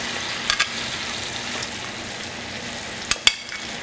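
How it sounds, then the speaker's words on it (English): Shrimp sizzling in a hot pan for garlic noodles, a steady broadband frying hiss held throughout with a few sharp pops and clicks of spatter near the start and end. "I add the shrimp."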